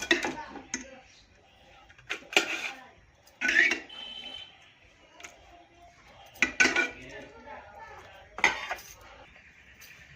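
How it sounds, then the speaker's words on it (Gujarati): Pots, pans and steel dishes being scrubbed and washed in a home kitchen, with repeated clanks and clinks of metal vessels over running scrubbing, close by, no talking. "એટલે બધા વાસણો ઘસી કાઢું."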